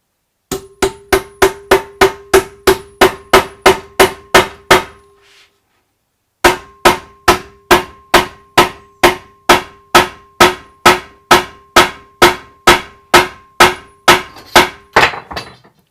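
Small hammer tapping during a baritone guitar build, a long series of sharp, evenly spaced ringing taps close by, pausing briefly before the steady rhythm resumes, with no talk.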